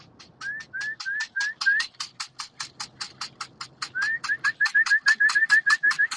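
Homing pigeons at a loft, gathering after a 50-mile training flight, make a steady series of rapid, evenly spaced pulsed calls close by, with no talking.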